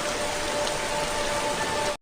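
Steady rain falling in a film scene, a dense even hiss of downpour that holds constant for about two seconds, then cuts off abruptly.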